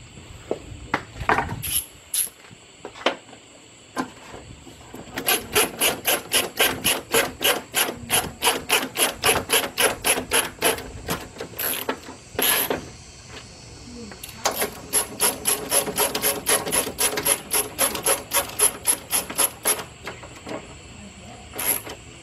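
Screws being driven into the fan relay of a 2005 Chrysler Town and Country, close rapid ratcheting clicks in long rhythmic runs, broken by short pauses and a few louder knocks.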